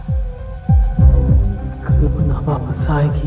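A throbbing heartbeat sound effect, a low dual-thump pulse repeating steadily and loud over a sustained droning hum, used as dramatic tension in a Hindi horror-thriller TV series.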